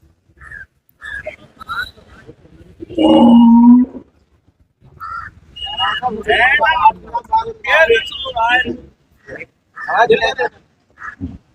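Buffalo and cattle at the Pollachi livestock market, one loud low moo lasting about a second standing out amid market chatter and people talking nearby.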